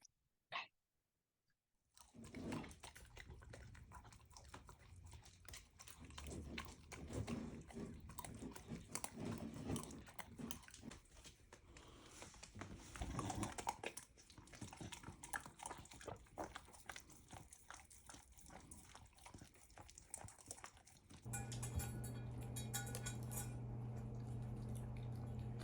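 Dogs chew and crunch on a homemade liver treat, a steady stream of close wet biting and mastication sounds lasting many seconds, with rustling and a brief louder hum near the end.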